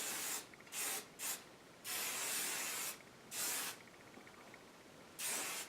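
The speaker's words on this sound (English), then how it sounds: "And then I go ahead and do one spray with my hair curled over like this." Hairspray from an aerosol can hisses onto curled hair in about six short, sharp bursts of varying length, close and clear, with quiet pauses between them.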